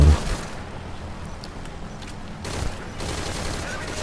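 Rapid rifle fire in Metal Gear Solid Ground Zeroes, a loud continuous stream of shots with a dense burst at the start and another rising near the end.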